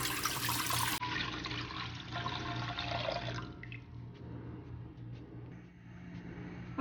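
Two cups of water pour into a cooking pot to start a sugar syrup, beginning with a bright, splashy gush that settles into a softer, steady trickle and light sloshing.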